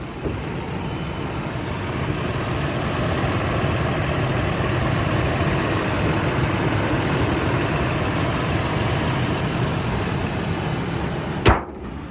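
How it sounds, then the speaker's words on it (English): A car engine idling quietly and smoothly, a steady low hum that holds an even level throughout, with one brief sharp click near the end. "Very quiet running motor."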